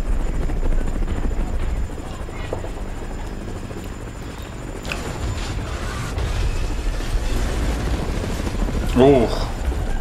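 Helicopters roar over city destruction in an animated Godzilla film, a loud continuous rotor drone with rumbling booms, while a person talks over it.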